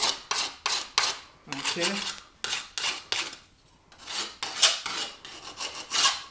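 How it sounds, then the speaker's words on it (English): A hand file rasps along the edge of a metal panel being prepared for oxyacetylene welding, in a run of close, crisp strokes with short pauses between them, and a brief spoken word comes in once. "So we're filing the edge."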